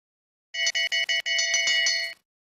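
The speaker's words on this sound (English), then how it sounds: "Bell lap has gone on for her." Electronic bell marking the final lap of a long track speed skating race, ringing loud and close as four quick separate dings followed by a longer rapid continuous ring, with no talk over it.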